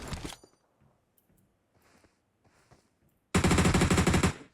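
Loud automatic gunfire from the mobile battle royale game PUBG Mobile erupts as a sustained rapid burst near the end, after a short burst at the start and quieter game sounds in between.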